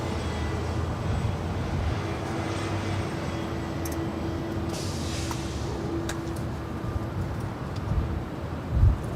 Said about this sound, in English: That is Delta Airlines flight 2554 and that A350-900 heading back to Atlanta.